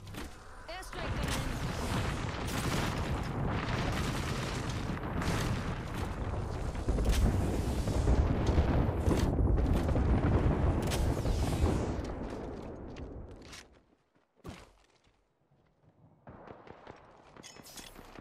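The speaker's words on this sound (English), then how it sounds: "Airstrike coming." Heavy, rumbling airstrike explosions in Apex Legends roll on loud and continuous for about twelve seconds before cutting off abruptly, with a few sharper bursts afterward.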